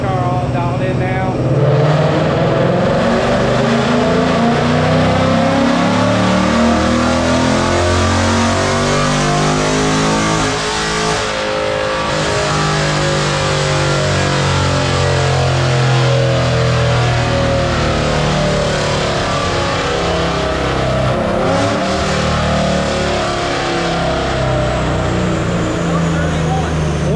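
A 2024 Mustang GT Performance Pack V8 roars through repeated rising revs on a dyno, loud and close, the pitch sweeping up and down across long pulls.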